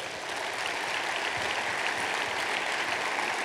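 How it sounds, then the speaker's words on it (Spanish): Church congregation applauding during a sermon, a steady dense wash of clapping that fills the whole stretch at even loudness with no talk over it. "Dar un aplauso a Jesús."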